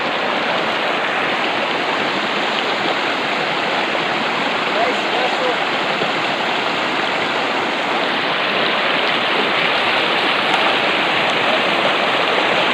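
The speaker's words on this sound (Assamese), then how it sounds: "এতিয়া মই নদীখন পাৰ কৰি লৈছোঁ" River water of the Toka river near a Chakma village rushes steadily and loudly, a close, unbroken wash of flowing water that lasts the whole stretch with no pauses.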